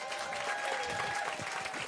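Studio audience applause in a small live-music studio, a steady wash of clapping hands, moderately quiet and even throughout, with no talking.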